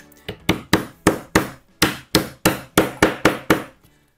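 About a dozen sharp, evenly spaced hammer blows drive a surface-mount furniture connector into pre-drilled holes in a panel. The strikes are close and loud and ring out with no talk.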